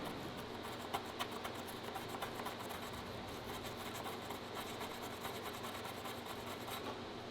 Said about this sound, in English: sand out each hole